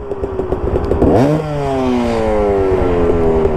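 A two-stroke dirt bike engine revs on a mountain trail, rising sharply in pitch then holding a steady, buzzing drone up close, with clattering mechanical noise under the opening moments.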